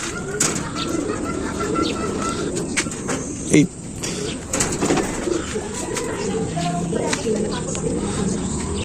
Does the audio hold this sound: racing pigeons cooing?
yes